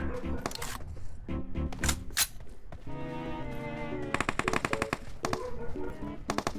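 Rapid bursts of video game gunfire crackle loudly in uneven volleys, with someone talking over the shooting.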